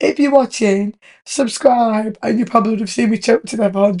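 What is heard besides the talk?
No everyday noise stands out behind the speech.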